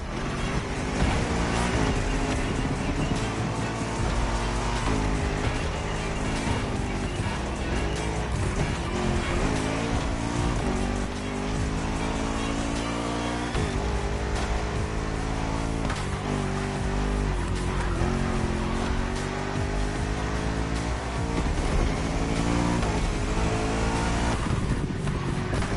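Race cars at a motorfest roar past continuously, engines revving and shifting through gears as they overtake one another, with tire squeal and loud, dense engine noise throughout.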